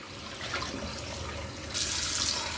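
Galunggong fish rinsed under running water from a tap, a steady close splashing and trickling that swells into a louder gush near the end, with no voices.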